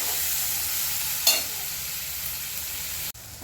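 Onion and tomato fry in a pan with a steady, close sizzle, broken by one brief stirring scrape and a sharp clatter near the end.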